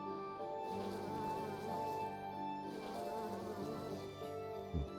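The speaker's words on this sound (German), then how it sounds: "Bringen ja wirklich Bienen aus." Bees buzz in the city-building video game Timberborn, a continuous close drone of several insects with slight swells in loudness, heard alone without talk.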